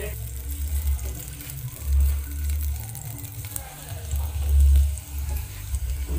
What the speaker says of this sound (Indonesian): tumis bawang merah dan bawang putih hingga layu dan aromanya harum